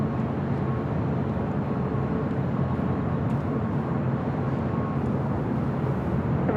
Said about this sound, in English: Next arrival, another Delta Connection, SkyWest, E175LR, also coming in from Sacramento.